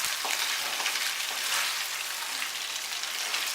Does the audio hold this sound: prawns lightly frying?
yes